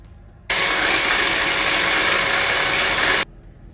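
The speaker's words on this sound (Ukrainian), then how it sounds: "Взбиваємо тепер наш білок." An electric hand mixer whips egg whites for royal icing on an Easter bread: a steady, loud whirring drone that starts abruptly, runs unchanged for under three seconds and cuts off, with only quiet room tone around it.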